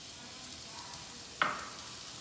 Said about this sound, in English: we're just gonna mix this together and saute it for 30 seconds